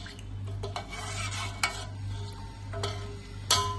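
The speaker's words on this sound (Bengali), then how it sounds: "তারপরে একটু ডালটাকে একটু নাড়াচাড়া করে নেবেন" Dal with ginger paste and garlic being stirred in a pot, soft scraping of a spoon against the metal with occasional sharper clinks, over a low steady hum and faint simmer.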